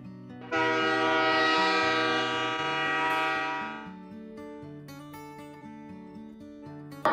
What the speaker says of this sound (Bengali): ট্রেন ছুটে চলেছে সাসারাম স্টেশনের দিকে